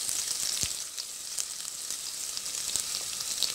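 Ginger garlic paste frying in hot oil with red onions for a rajma (red kidney bean) curry, giving a steady, close hiss of sizzling with a few soft stirring clicks and no voices.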